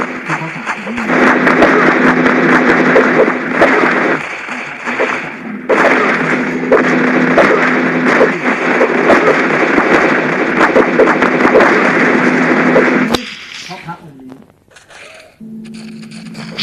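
Dense, continuous gunfire from the video game SAS 4, a loud, rapid barrage of shots and bursts that holds for most of the stretch before cutting off into quieter game sounds.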